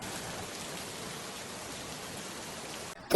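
Rain falls steadily during the monsoon season around a straw-thatched house, making an even, unbroken hiss that cuts off into a sudden louder knock at the very end.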